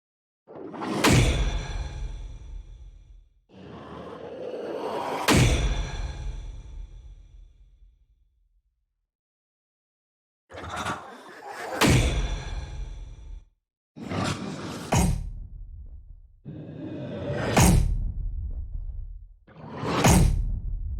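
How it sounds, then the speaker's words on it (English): Designed whoosh effects built from manipulated human voices sweep past one after another, six separate swells that rise and cut off sharply with gaps of silence between, loud and close with a roaring edge. "We have designed more than 75 unique whoosh effects, all created from organic vocal manipulations."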